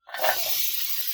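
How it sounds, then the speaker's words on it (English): Hot oil heating in a pan for chicken spinach egg drop soup gives a steady, soft hiss that swells in and holds evenly for about a second, alone without talk. "got the oil heating up in the pan here"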